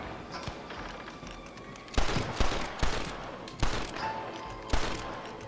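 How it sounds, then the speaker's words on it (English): Gunfire in the western video game Red Dead Redemption, with a series of sharp shots ringing out at irregular intervals, about five loud cracks over a steady ambient bed. "what are you shooting at?"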